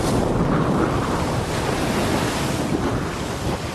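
Rough North Sea surf and gusting wind at an offshore wind turbine site, a steady, broadband roar of waves and wind buffeting the microphone, loud and continuous throughout.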